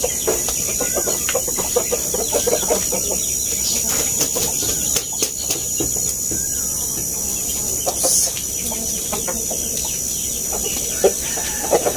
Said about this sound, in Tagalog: So ito yung gagamitin namin na broodcock.